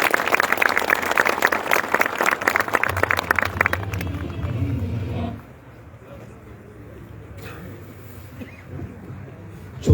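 An audience at an opening ceremony for a sugar company's regional service building in Bünyan, Kayseri, claps to welcome a speaker to the podium. The dense applause fills the first five seconds, then drops away to a low murmur.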